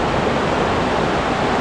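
River water rushing steadily past a campsite on a Swiss morning, a dense continuous broadband wash with no breaks, close and fairly loud, no voices.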